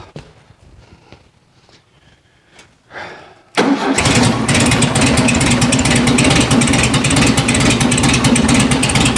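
A 1974 VW Super Beetle, the air-cooled flat-four, cranks briefly after some quiet clicks, then catches and settles into a loud, steady, clattery idle close by.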